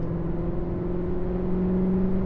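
A 2021 Cupra Formentor VZ 1.4 e-Hybrid with DSG gearbox revving in Sport mode, heard as a steady, humming engine drone with a held tone. It stays moderately loud throughout and no one speaks.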